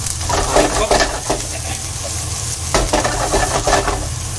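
Chopped onions fry in a pan, browning with fenugreek and ginger, making a loud close sizzle broken by repeated scraping stirs of a spoon against the pan.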